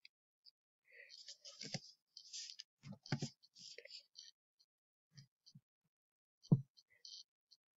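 A computer mouse clicks softly and sparsely while someone works in MS Paint, with one sharper click near the end. A hushed voice speaks throughout.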